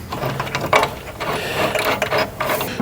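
A ratchet wrench with a half-inch socket tightens bolts on a benchtop stand for a portable band saw, giving bursts of rapid clicking and metallic rattling up close, uneven and start-stop.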